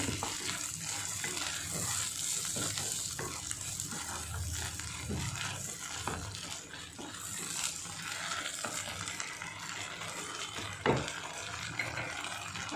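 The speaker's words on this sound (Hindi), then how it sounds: "इसको खुंती से थोड़ा सा पीसेस कर लेना है" Goat brain frying in a pan for Hyderabadi shahi bheja fry, steady sizzle with scattered scraping and tapping as a spatula breaks it into pieces, close and continuous with no talk.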